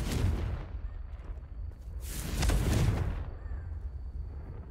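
Confringo fire spell blasting in the video game Hogwarts Legacy, a loud booming burst that swells around the middle of the clip over a steady low rumble of game noise, with no talking.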